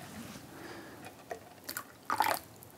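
Hot water is poured over sencha green tea leaves to brew it, giving soft close splashes and drips that build into a brief louder trickle, all quiet with no talking.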